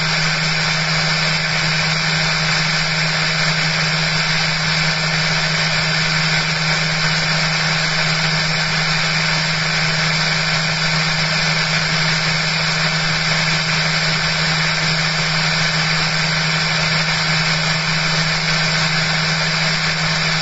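A direct drive motor runs under full load, giving a steady, unbroken electrical hum and whine with constant vibration, loud and close, with no pauses or voices.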